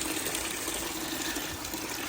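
Coolant pours steadily from a truck engine after a failed water pump is pulled, a continuous close splashing flow with no talk over it.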